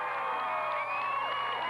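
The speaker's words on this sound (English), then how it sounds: "The cheering you hear is all the way across on the Lake Linden side" A crowd at a football game cheers from across the field, a distant, steady roar of many voices with whoops running under it throughout.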